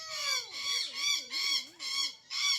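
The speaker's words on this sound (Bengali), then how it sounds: "কাকাতুয়া। এই যে কি পাখি এসব।" A cockatoo at a zoo gives a series of five loud, harsh squawks in quick succession, each raspy burst close and clear with brief gaps between.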